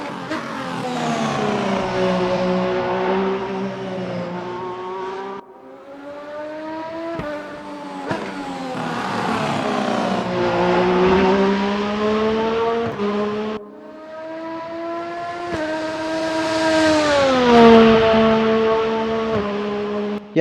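FR X-22 F1 2022 race car from the RaceRoom racing game heard from outside, its engine repeatedly revving up through the gears in loud, high-pitched sweeps with brief drops at each shift, three long pulls in a row.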